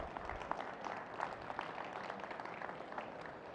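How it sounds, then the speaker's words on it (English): Faint, distant applause from an audience at an agriculture innovation pitch event, a dense patter of many hands clapping at low level throughout. "Let's give them all another round of applause"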